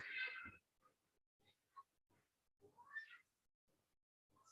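A pet cat meows in a quiet room, one loud cry at the start followed by softer, brief mews spread out, with a longer rising call near the end.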